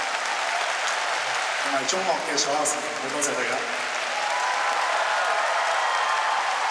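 Steady, dense applause from a large audience at a live music awards show fills the hall throughout, with someone talking over the clapping.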